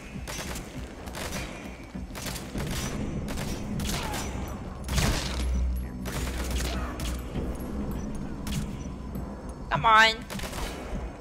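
Gunfire from the Metal Gear Solid 5 video game, shooting for headshots: a rapid burst of shots, several loud broadband bangs and booms layered over a low rumbling background, with a person talking briefly in the mix.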